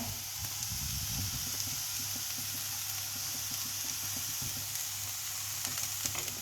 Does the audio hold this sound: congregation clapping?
no